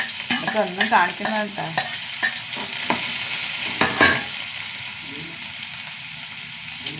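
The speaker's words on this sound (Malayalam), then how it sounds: "കടുക് ഇട്ട് കൊടുക്കാം. ഒരു സവാള," Mustard seeds and sliced onion sizzle and crackle in hot oil in a home kitchen, a steady close frying hiss with stirring while someone talks over it early on, then the sizzle continues alone.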